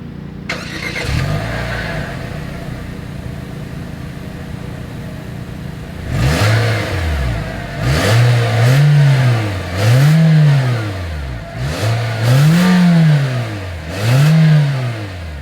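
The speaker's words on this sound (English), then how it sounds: "As always, here is that exhaust clip." Exhaust of a 2024 Nissan Versa: the engine starts and settles into a steady idle, then gives a sequence of about five rising-and-falling revs, each swelling loud and close before dropping back, with no talk.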